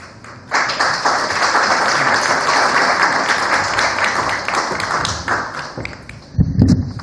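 Applause from the audience at an academic talk in Mexico on migrants, tourists, displaced people and refugees, sustained dense clapping from many hands after a brief quiet start, fading near the end as a few thumps follow.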